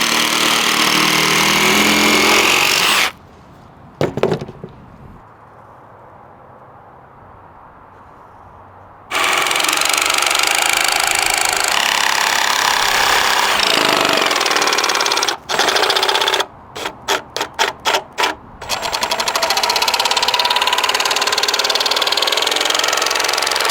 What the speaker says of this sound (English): I basically have to rip the planks lengthwise since they won't fit in this